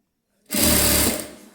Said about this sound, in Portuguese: Arrumo bem direitinho, alinhando o material e vou costurando.